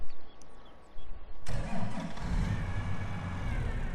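Tractor engine starting up close by, with a starter crank that catches into a loud, deep, rumbling idle that runs steadily to the end.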